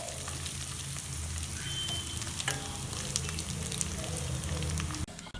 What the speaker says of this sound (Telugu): ఈ రెసిపీ కోసం మనం ఉల్లిపాయలను బాగా ఫ్రై చేయాలి.